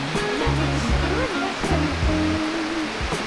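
A river rushes steadily through the village of Moustiers-Sainte-Marie in France, a constant broad hiss of flowing water close by. A low tonal hum runs underneath it.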